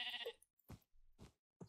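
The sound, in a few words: sheep bleating in Minecraft, from a video game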